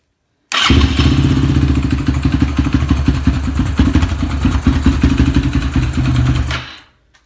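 A Suzuki LTR450 ATV engine runs roughly at idle with an uneven, pulsing sputter. It is loud and close, bursts on abruptly, holds for about six seconds, then dies away.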